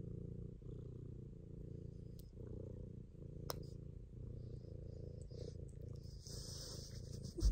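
A cat purring close up, a steady soft rumbling purr with a rhythmic breathing pulse that goes on throughout, fairly quiet and with no talk.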